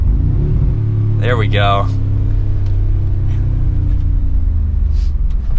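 A Mercedes-AMG G63 SUV's engine hums steadily under a low rumble while a driver speaks briefly from inside the cabin, the tone rising slightly as the vehicle comes up to speed.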